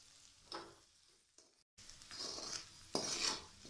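Dal masala with turmeric being stirred in a pan, with soft sizzling and a few scraping stirs and clinks of a utensil against the metal, fairly quiet with a brief pause midway.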